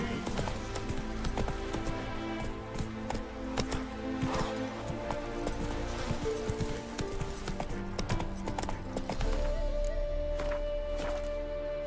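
Roach, a horse in The Witcher 3, gallops in a steady clip-clop of hooves mixed with game music and effects, moderately loud throughout.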